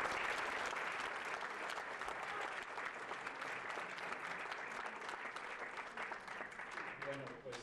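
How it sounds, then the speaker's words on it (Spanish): An audience at a medical talk on acute myeloid leukemia applauds a doctor, with dense, sustained clapping that stays loud throughout and tapers slightly near the end. "sí le solicitaría que le demos un aplauso al doctor David Gómez Almaguer"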